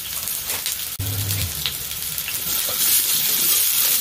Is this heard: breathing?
no